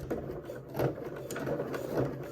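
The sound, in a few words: sewing machine stitching thick bag fabric backwards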